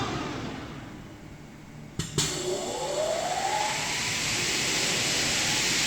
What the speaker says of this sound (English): Press the two buttons to start the machine movement.